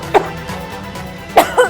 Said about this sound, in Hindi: कितनी खांसी आ रही है तुझे।